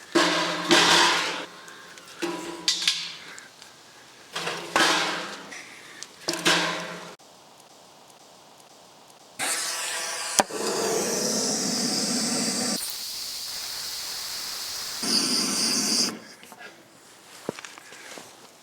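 A weed-killer propane torch is used to light a Solo Stove Bonfire fire pit, giving a loud roaring hiss of gas in long bursts after several short noises near the start.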